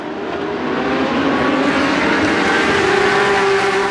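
Porsche 992 GT3 race cars accelerate as a group at Indianapolis Motor Speedway, a loud, sustained engine roar with rising pitch as they climb through the gears, heard close and without talk.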